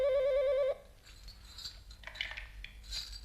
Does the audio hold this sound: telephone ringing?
yes